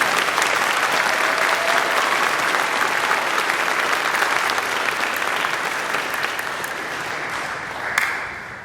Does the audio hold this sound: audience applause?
yes